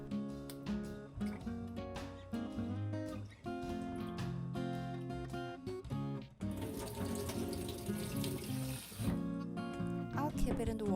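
Running water from a faucet splashes over Korean rice cakes being rinsed, with a burst of heavier flow partway through and clattering handling sounds.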